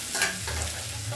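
Chopped tomatoes go into a pan of frying onions and capsicum for a flat bean dish and get stirred, giving a steady close sizzle with a soft scrape of stirring and no talk.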